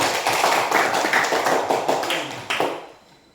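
A classroom of students claps together in a dense, busy burst that carries on for a few seconds before trailing off into quiet.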